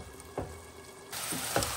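Spicy bean curd in chili bean sauce simmers in a pan, hissing softly, then the sizzle swells louder partway through, with a few dull knocks of the lid or utensil.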